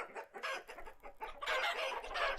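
Chickens penned in a hut in the video game Vintage Story cluck and squawk in a crowded, overlapping chorus that swells louder toward the end, with no one speaking.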